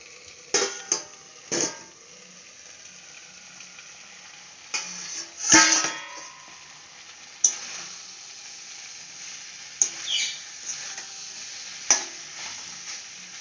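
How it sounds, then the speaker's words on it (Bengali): Food is sautéed and stirred in a pan, with a low sizzle under repeated sharp utensil taps and scrapes against the pan at uneven intervals, close and fairly loud, with no talking. "একটু কষিয়ে নিই।"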